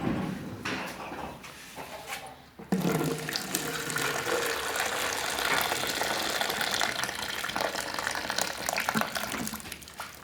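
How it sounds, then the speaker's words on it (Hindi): Water is poured off boiled chickpeas, a steady rushing gush that begins abruptly and flows continuously and fairly loudly until the end. "अब हम छोले का पानी निकाल लेंगे"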